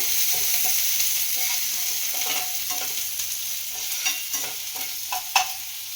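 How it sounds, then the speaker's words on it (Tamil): Onions sizzle and fry in a pan while being stirred, a constant close hiss broken by scraping and clinking of the spoon, with no talking. "இப்போ ஆனியன், நல்லா ஃப்ரை பண்ணிக்கோங்க."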